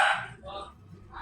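A pet dog barks a couple of short, sharp yips close by, with a person speaking around them.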